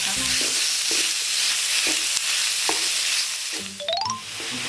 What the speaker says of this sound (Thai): นำหมูสับไปคั่วกับพริกแกงนะคะ ให้หมูสับสุก